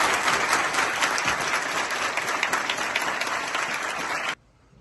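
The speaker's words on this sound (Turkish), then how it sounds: "Daha kuvvetli alkışlar." Crowd applauding at a send-off ceremony in Şahinbey for 174 students leaving for Umrah, a loud, dense burst of clapping that stops abruptly near the end.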